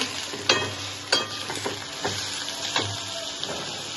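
Green chilies sizzle and spit in hot oil in a wok, with steady frying crackle broken by a few sharper pops and stirring clatters, close and alone.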